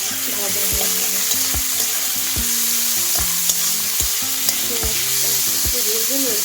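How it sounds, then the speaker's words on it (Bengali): Onions fry for chow mein, hissing in a steady, close sizzle while a utensil scrapes and knocks against the pan in a regular stirring rhythm. "পেঁয়াজটা ভালো করে ভাজা হয়ে যাবে"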